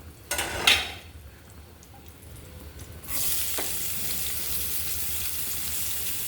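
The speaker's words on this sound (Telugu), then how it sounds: "ఉల్లిపాయలు కాసేపు వేగాలన్నమాట ఇందులో ఉప్పు వేసుకుంటే తొందరగా వేగుతుంది" Onions frying in a pan: a couple of utensil clinks and scrapes, then a steady, close sizzle that swells loudly as they hit the hot oil and continues.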